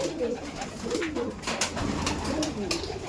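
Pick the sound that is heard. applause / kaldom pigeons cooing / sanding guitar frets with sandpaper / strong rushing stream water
kaldom pigeons cooing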